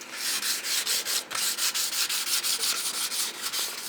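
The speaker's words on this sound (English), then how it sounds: "now I'm kind of going back through and wet sanding with 400 grit" Rapid, steady back-and-forth wet sanding strokes with 400-grit sandpaper and WD-40 rasp against anodized aluminum trim from a 1971 Mach 1, close and fairly loud, with a short pause partway through.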